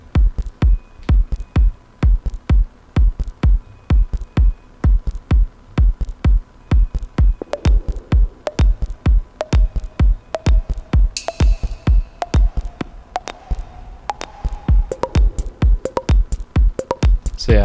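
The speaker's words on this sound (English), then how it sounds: "So this is what the drum track sounds like." A pre-made drum track in Reason pounds out a fast, steady electronic beat of punchy kicks and crisp hits, with a faint synth line and a swelling noise sweep rising in the middle, loud and alone.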